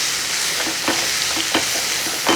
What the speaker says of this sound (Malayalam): ഇനി എല്ലാം കൂടെ ഒന്ന് ഇളക്കി